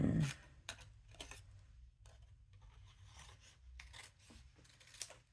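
Scissors snip through paper during card making with a small Spellbinders die-cut piece, a few short crisp cuts spaced apart, close and fairly quiet with faint handling rustle between.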